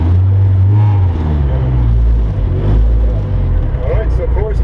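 A car runs through an autocross course, its engine a steady drone with a rise and fall in pitch as it works the layout, with a voice talking over it.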